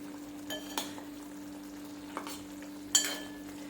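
Stuffed brinjal curry simmers uncovered in a pan with a soft, steady sizzle, broken by a few light clinks and scrapes of a utensil against the pan.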